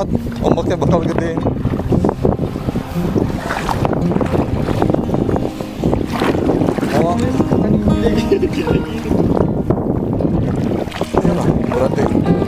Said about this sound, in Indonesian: Balik ada kapal lewat.